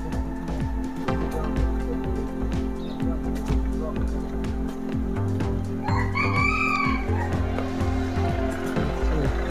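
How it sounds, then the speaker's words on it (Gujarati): A red junglefowl rooster crows at a park zoo in Rajkot, a rising and falling call lasting about a second midway through, set over steady outdoor background noise with a low hum and other animal sounds. "લાલ જંગલી કુકડો."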